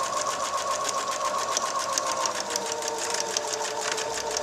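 A sewing machine runs steadily as it stitches denim fabric for a doll-sized jean skirt, a close, continuous mechanical whir with a fast, even rhythm and no pauses or talking.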